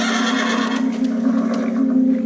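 A stallion neighs loudly and close by, one sustained, wavering whinny that carries through the whole stretch with a strong steady tone and no other sounds.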